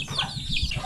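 Chickens cluck in a short, close burst near a home by a marsh, a rapid run of low pulsing clucks filling under a second with no voices.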